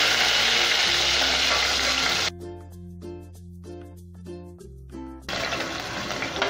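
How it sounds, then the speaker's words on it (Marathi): Potatoes fry in hot oil for a spiced vegetable pulao, giving a loud, broad sizzle that drops away for a few seconds into quieter clinks and bubbling, then returns at full strength. "आणि त्याच्यातच आपण थोडेसे बटाटे फ्राय करून घेऊया।"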